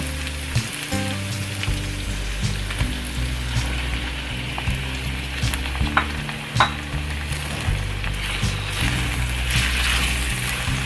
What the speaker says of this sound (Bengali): এখন আমি চিকেনটা দিয়ে দিব।